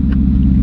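A 2018 Mustang GT engine idles with a loud, deep, throbbing rumble from an open header exhaust, steady and close throughout.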